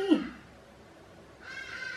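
Hadeda ibis calling outdoors, a short, harsh squawk at first, then a higher raspy call from farther off that rises in the background.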